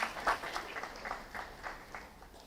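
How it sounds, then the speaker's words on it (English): An audience at a school awards ceremony claps in a steady, moderate round of applause, heard from a little distance and gradually fading. "A round of applause."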